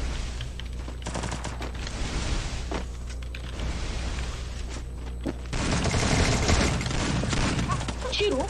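Rapid bursts of video game gunfire crackle and rattle through an emulated shooter match, loud and near, with a heavier volley near the end.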